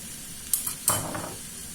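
Chicken stir-frying in a wok with soy sauce and vegetables, a steady sizzle broken by a few sharp scraping stirs of the utensil against the pan, with no voice heard.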